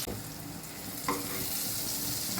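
Pieces of elephant foot yam fry in oil, making a faint, steady, close sizzle with one brief louder crackle partway through.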